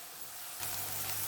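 Sliced green chillies drop into onions frying in a pan, and the quiet sizzle jumps to a louder, hissing crackle that continues briefly.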